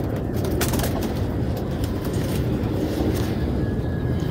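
Pigeons coo softly amid a dense, continuous rumble of background noise, the calls partly masked and steady throughout the short stretch.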